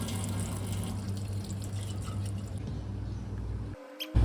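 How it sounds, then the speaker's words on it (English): Tap water runs steadily from a faucet as a bottle is washed in a sink, a continuous near splashing wash that cuts off abruptly just before the end. "You use tap water to wash the bottle"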